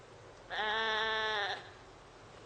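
A single sheep bleats in the Project Zomboid video game, one sustained, wavering, strained cry of about a second, fairly loud and close over a quiet background.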